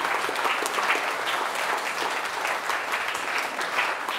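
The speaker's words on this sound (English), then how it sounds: "So a round of applause." A conference audience applauds steadily and warmly for several seconds, a dense wash of clapping with no voices above it.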